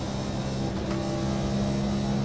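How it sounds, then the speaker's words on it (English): A NASCAR Next Gen race car engine revs at Le Mans with a loud, sustained, steady drone heard close up. "Up to 5th gear, revving it out."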